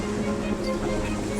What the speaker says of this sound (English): it's down a level to start the flow of water and power up the massive machinery